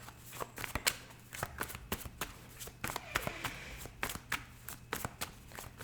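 Tarot cards being shuffled and handled during a reading, a steady run of close, crisp riffling and slapping bursts with no talk over them.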